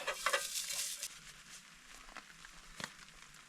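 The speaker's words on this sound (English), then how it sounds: "So these are just smokies with jalapeno cheese in the middle. Ooh, this pan's running hot." Smokies stuffed with jalapeno cheese sizzle in a hot pan while car camping on a rainy day in British Columbia: a steady crackling hiss with faint pops and a few sharper clicks.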